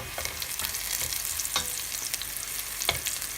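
Zucchini frying in oil in a pan, a steady close sizzle and crackle with occasional sharper pops, no voices.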